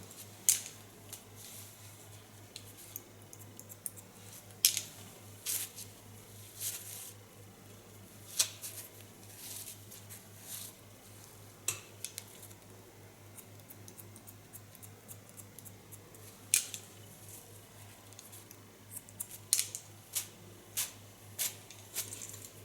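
Scissors snip through hair in a salon haircut, giving sharp, close clicks at irregular intervals, sometimes in quick pairs, over a quiet low hum.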